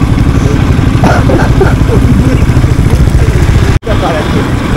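Off-road motorcycle engine running steadily and loud throughout, a continuous mid-low drone during a ride near Kaipul, briefly cutting out near the end before resuming.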